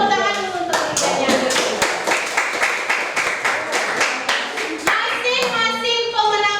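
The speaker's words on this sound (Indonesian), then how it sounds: "beri tepuk tangan dulu untuk kerjanya" Schoolchildren in a classroom clap together for quiz winners, a loud burst of close, rapid hand claps that fills several seconds, with children's voices talking at the start and end.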